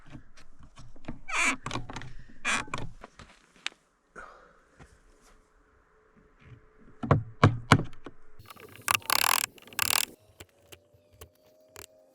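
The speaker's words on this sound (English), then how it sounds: "And so now I will just slowly chisel away at that and then make it round." Hand chiseling of wood while carving a wand, a series of sharp irregular taps and scraping cuts, some louder strikes in clusters with pauses between, close by and without talk.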